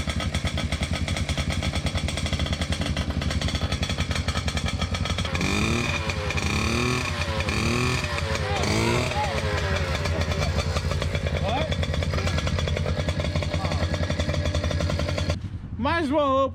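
A dirt bike engine idles steadily for the whole stretch, a loud, close, continuous rumble with some rough sputtering through the middle and a brief break in the throttle near the end.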